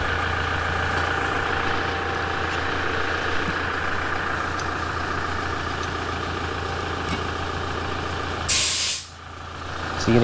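Air hissing out of a tyre during a tyre pressure monitoring sensor install, a steady loud broadband hiss running throughout with a sharp burst near the end.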